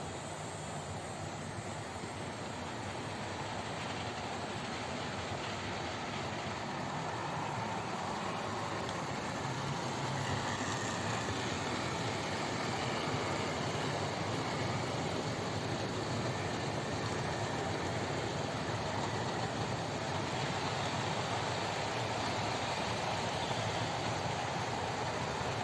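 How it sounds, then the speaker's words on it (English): OO gauge model trains run fast over clean track, giving a continuous, even rushing hum with no breaks, moderately faint and without talk. "Lovely clean track,"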